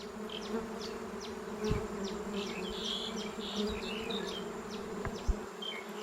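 Dwarf honeybees drone around their nest outdoors, a steady close buzzing with individual bees passing by and a few soft knocks, no voices.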